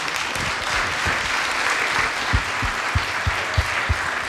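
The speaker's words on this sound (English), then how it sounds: "can I get a round of applause for my panelists?" A conference audience applauds its panelists with sustained, dense clapping, loud and steady, with a few sharper individual claps standing out toward the end.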